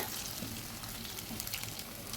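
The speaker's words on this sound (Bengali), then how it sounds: "রিফাইন তেল দিয়ে এবার এগুলোকে আমি শ্যালো ফ্রাই করে নেব" Potato and semolina snack pieces shallow frying in a little refined oil make a steady, close sizzle that crackles evenly throughout, with no speech.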